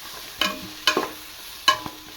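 Large tomatoes are sautéed in a pan for prawn biryani, a soft background sizzle punctuated by three distinct scraping stirs of a spoon against the pan.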